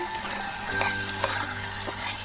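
Chicken pieces fry and get stirred in a pot, a steady low sizzle with scraping stir strokes and a soft clank or two, close by with no talk.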